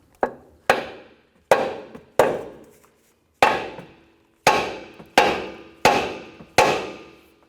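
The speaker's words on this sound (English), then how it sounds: "We're going to use a hammer and strike the side right here" A hammer strikes a steel steering knuckle on a 2004-2008 Acura TL to separate the ball joint: nine sharp metallic blows with short ringing decays, irregularly spaced with a brief pause midway, close and clear.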